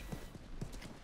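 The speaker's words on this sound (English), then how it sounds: "A horse." Horse hooves clip-clop in a few slow, soft, spaced thuds in The Last of Us, close and fairly quiet over a low ambient bed.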